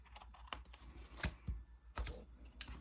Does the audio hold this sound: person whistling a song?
no